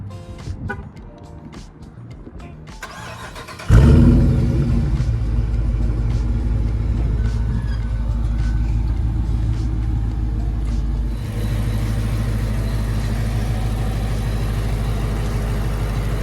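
A 5.7-liter HEMI V8 with a cold air intake cranks and roars to life, then settles into a deep, loud, steady rumbling idle close by.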